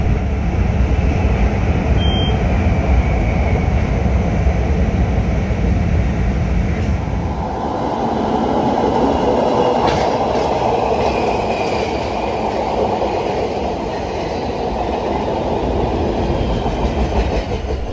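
A Chicago CTA Red Line elevated train rumbles steadily along the tracks with a broad roar and faint clatter, heard from on board, continuous and loud throughout.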